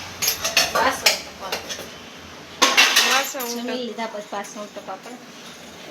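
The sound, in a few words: washing dishes and utensils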